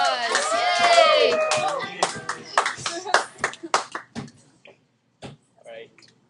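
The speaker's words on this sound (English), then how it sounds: "Everybody give Alan a round of applause." Students in an algebra classroom break into a short burst of applause with cheering voices, the clapping thinning into scattered claps before fading out.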